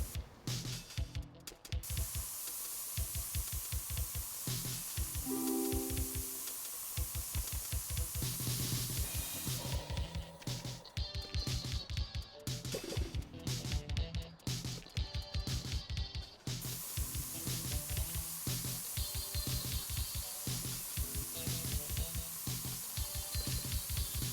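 A spray gun hisses steadily while a car is painted in the Spray Paint Simulator video game, a long continuous spray with brief breaks and shifts in texture, fairly quiet throughout.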